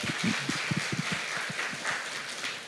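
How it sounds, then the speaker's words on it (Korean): A church congregation at a Korean worship service claps together, dense steady applause with audible individual hand strikes, close and sustained for a few seconds. "우리 박수 한번 하겠습니다."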